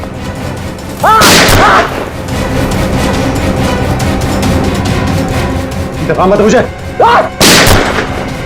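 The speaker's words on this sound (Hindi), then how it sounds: "अभी भी गोलियां चल रही है" Two loud gunshots ring out, one early and one near the end, with people speaking urgently between them.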